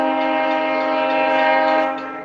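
A train horn sounds in a long, loud, sustained chord as the train approaches, holding steady before easing off slightly at the end.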